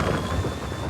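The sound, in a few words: storm winds raging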